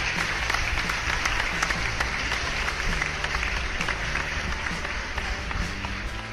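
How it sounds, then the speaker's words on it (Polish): Audience applause thanking viewers and promoters, a continuous crackle of many hands clapping at even loudness throughout, with a low rhythmic tapping underneath. "wielkie, ale to wielkie brawa dla Was."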